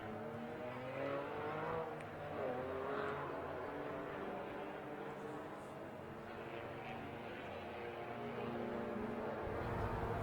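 Nissan 350Z race car from the SPL Parts team lapping Circuit of the Americas in a Super Lap Battle, heard as a steady, fairly distant engine drone that holds through the whole stretch with some faint background chatter.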